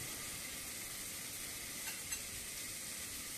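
Sambar ingredients sautéing in a pan make a faint, even hiss of sizzling that carries on steadily throughout, with no voices.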